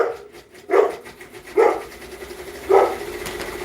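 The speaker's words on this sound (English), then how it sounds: "My dog's barking, so if you got dogs, sorry." A pet dog barks indoors at home in three separate, fairly loud woofs spaced about a second apart, over a quiet background hum with no speech.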